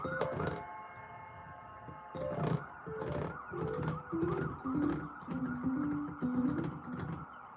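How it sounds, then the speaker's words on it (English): Emergency vehicle sirens wail close by and seem to move away, their rising and falling tones running steadily under a constant high electronic tone from a live gaming stream. "There's sirens."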